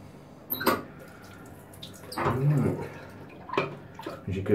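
A razor blade rinsed under running tap water during a head shave makes bursts of splashing and trickling water. The bursts come in short pulses, close by, between quieter stretches.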